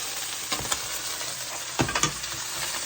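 Pork chops brown in a hot pan with a steady low sizzle, broken by a couple of brief stirring or scraping clatters close by, with no talk.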